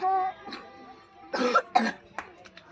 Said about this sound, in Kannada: ಶೀತ ಇರೋದ್ರಿಂದ ಸ್ವಲ್ಪ ಕೆಮ್ಮು ಬಂದು ಕ್ಷಮೆ ಇರಲಿ